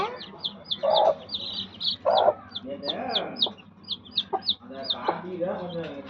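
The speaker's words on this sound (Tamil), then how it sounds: "கோழி எல்லாம்" Chickens cluck nearby in a garden while chicks peep in a quick, continuous stream of high chirps. A person talks now and then over them.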